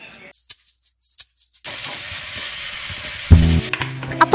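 Spices being stirred and fried in a pan for a beef roast: quiet scraping at first, then a continuous close sizzle with louder stirring clatter near the end, no talking.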